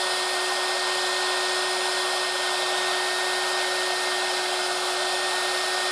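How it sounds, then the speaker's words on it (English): A hot air gun warming resin blows with a steady, loud, close whoosh and a high whine, constant for the whole stretch with no talking. "So what I tend to do is I get my hot air gun, and I will apologise if it's noisy for everybody."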